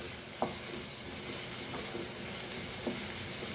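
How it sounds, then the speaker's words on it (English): Onion masala frying in a pan for a Goan shark ambot tik curry, giving a soft continuous sizzle with a few faint stirring knocks, no talking. "So let's fry this nicely till our masala is getting"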